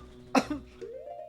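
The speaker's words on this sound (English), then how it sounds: "I don't know why I keep coughing" A single sharp cough close to the microphone, followed by a softer throat sound and a brief hum, against quiet background.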